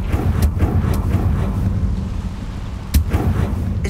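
A Confringo blasting spell is cast in the Hogwarts Legacy video game, giving two booming explosive bursts about two and a half seconds apart over a steady windy rumble.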